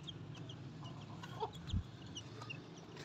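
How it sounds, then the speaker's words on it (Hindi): Soft, low clucks from a hen with her single chick giving a few faint high peeps, quiet and scattered over light outdoor background noise. "ये मुर्गी के साथ सिर्फ एक ही चूज़ा बचा था,"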